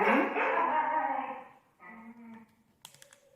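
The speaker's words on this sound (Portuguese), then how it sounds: "Tem cachorro latindo" A dog barks a few times in the background, fairly loud at first and then fading, with some clicking and tapping toward the end.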